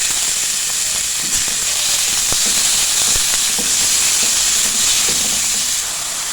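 Chicken strips, about 250 grams, fry in a pan with a steady loud sizzle and hiss throughout, broken by small sharp pops and crackles.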